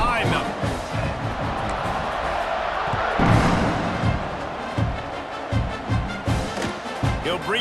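A stadium crowd roars in EA Sports College Football 26 as a kickoff approaches after an extra point, a dense, steady wall of cheering with some swells and thumps, and a commentator talking over it.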